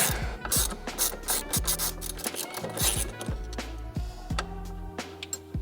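A socket ratchet clicks rapidly and repeatedly while loosening a suspension end link on a C5 or C6 Corvette during a coilover install, with bursts of pawl clatter and metallic rubbing, up close.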